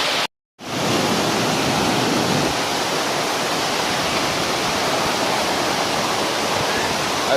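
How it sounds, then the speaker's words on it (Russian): Steady, loud roar of one of the Nikhaloy waterfalls in Chechnya fills the scene continuously after a brief silent gap at the start, with no voices. "Так, поднялись на второй водопад."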